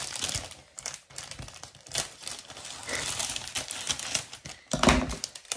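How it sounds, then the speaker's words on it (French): Scissors cut open the packaging of a diamond painting kit, giving a close series of crinkling plastic rustles and sharp snips with uneven taps, steady throughout and louder near the end. "je prends quand même le ciseau pour l'ouvrir"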